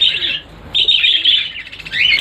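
Lovebirds and doves in a breeding aviary give bright, shrill chirps in quick bursts, loud and close, with short pauses between calls.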